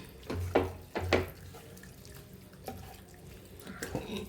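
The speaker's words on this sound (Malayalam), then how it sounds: "അപ്പോൾ ഇതേ ആവശ്യത്തിന് വെള്ളം ഒഴിച്ചു കൊടുക്കുന്നുണ്ട്" Water is poured into a cooking pan while making a Kerala-style squid roast, with two short splashing bursts near the start and then quieter trickling and faint drips.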